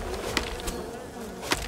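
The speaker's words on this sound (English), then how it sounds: "Ah, bees! Bees!" Close, steady buzzing of bees in the video game Len's Island, with a few sharp clicks over the drone.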